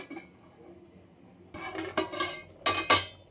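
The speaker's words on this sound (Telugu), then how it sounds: "మళ్ళీ మూత పెట్టేసుకోవాలి" Metal cookware clanks as a lid goes onto a pot of mutton frying in oil: a soft rustle, then several sharp, bright clatters close by, the last two loudest, with no voices.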